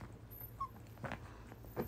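A dog gives a few brief, soft whimpers and yips indoors in a family home, three faint cries spaced over about two seconds against a quiet background.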